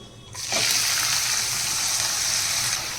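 Four large finely chopped onions hit hot oil for a dhaba-style chicken masala, a loud steady sizzle bursting in after a quiet start and holding bright and even, close by, with no talking.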